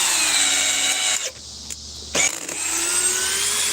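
A DeWalt drill runs close and loud as a steady high whine. It cuts off briefly in the middle, then spins back up, alone with no voices.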